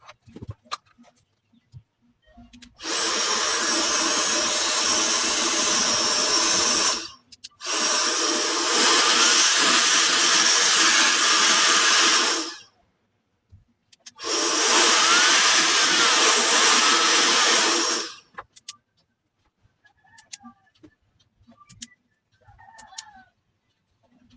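A Keelat 8000mAh cordless blower switched to vacuum mode runs loud and close in three steady whooshing bursts of a few seconds each, separated by short pauses, with faint handling clicks afterward.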